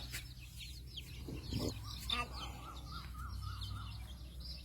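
Chickens cluck and squawk nearby in a busy outdoor setting, with a sharp rising call and softer repeated clucks scattered throughout.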